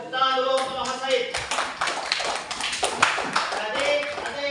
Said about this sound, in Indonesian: Tepuk tangan dulu untuk Mas Said.